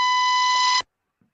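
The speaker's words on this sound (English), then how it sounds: "What's that bleeping then?" A single loud electronic beep holds a steady high tone for just under a second and then cuts off sharply, followed by silence and a faint click.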